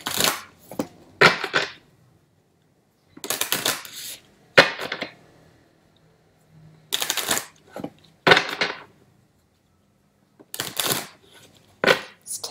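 Sibilla divination cards shuffled by hand in close, crisp bursts of riffling and snapping, repeated several times with short quiet gaps between them.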